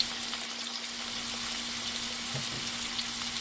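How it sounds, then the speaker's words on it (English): Skin-on potatoes fry in hot oil in a pan, giving a steady, soft, hissing sizzle with faint crackles that continues evenly throughout, with no talking. "So I'm going to put my potatoes in my pan like so"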